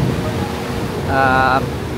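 Ocean surf rolling in at high tide on a Boracay beach during a typhoon, a steady broadband wash with wind noise and a swell of louder surge midway; a voice talks briefly over it.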